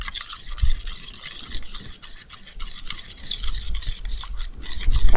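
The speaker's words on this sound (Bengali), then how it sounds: "পুরোটা মিশিয়ে খুব ভালোভাবে টক দইয়ের সঙ্গে এটাকে আমি ফেটিয়ে নেব।" Sour yogurt being whisked with a paste of poppy seed, cashew and green chili, a steady close scraping and stirring texture with soft wet clicks, continuous throughout without talk.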